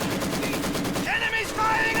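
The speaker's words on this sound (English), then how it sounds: "Lots of machine guns up there." Machine gun fire in a Company of Heroes 2 battle: rapid bursts of automatic gunfire with a steady rattling rhythm, mixed with other battle noise and tonal effects, moderately loud throughout.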